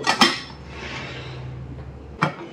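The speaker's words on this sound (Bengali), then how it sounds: "এখানে আমি ঢাকনাটা দিয়ে দেব" A metal lid is set onto a cooking pot on the stove while veg momos steam. Two sharp clanks open the sound, then a soft hiss and hum follow, and a final clank lands near the end. Nobody speaks.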